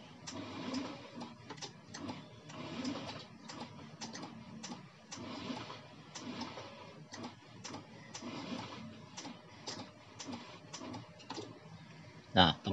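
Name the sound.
motorcycle electric starter cranking on weak battery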